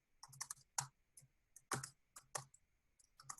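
Someone types on a computer keyboard at a desk. Close, quiet key clicks come in irregular bursts with short pauses between them, and no voice is heard.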